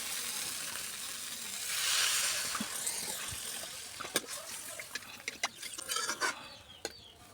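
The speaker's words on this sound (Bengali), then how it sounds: "এবার জল দিয়ে দেবো।" Water poured into a pan of sizzling fish and potato curry with green tomatoes, giving a soft gushing hiss that fades into a steady simmer, with scattered clinks of a spoon against the pot.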